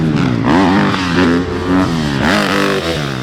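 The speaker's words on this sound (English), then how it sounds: "listen to hear how different the Beta rev limiter is" 2024 Beta 450 RX motocross bike bouncing off its rev limiter, a loud close four-stroke engine note rising and falling in quick repeated surges with a stuttering, pulsing edge, no talking.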